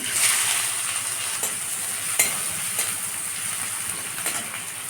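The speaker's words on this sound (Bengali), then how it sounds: "পেঁয়াজ কুচিটাকে দিয়ে দিলাম" Chopped onions frying in a pan give off a steady, close hiss of sizzling oil, broken by a few faint clinks and scrapes of stirring.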